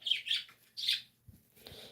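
Pet birds indoors give bright, close chirps and squawks in three quick bursts separated by short pauses, with no talking.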